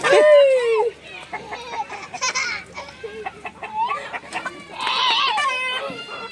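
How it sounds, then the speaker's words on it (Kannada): A chicken clucks and squawks nearby in short bursts, with a voice talking briefly in between. "ಇಲ್ಲಿ ನೋಡಲ್ಲಿ ಬ್ಲ್ಯಾಕ್ ಕೋಳಿ ಐತೆ ನೋಡ್ರಿ"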